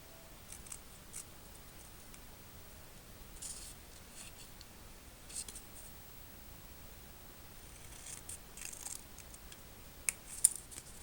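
Quiet scissor snips trim a stamped paper banner, a few soft, scattered cuts against a faint background hiss, with a couple of sharper clicks near the end.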